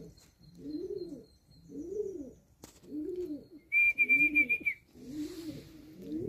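Pigeons coo nearby in a repeated rolling, throaty rhythm of about six even phrases, with a brief whistle or chirp partway through and no talking.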